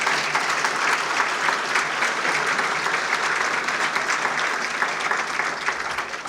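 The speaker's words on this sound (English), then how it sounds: "Would you give Donna Duperon a big round of applause?" Dense, sustained applause from an audience at a regional chamber of commerce event, honoring Donna Duperon; steady and loud throughout, fading slightly at the end.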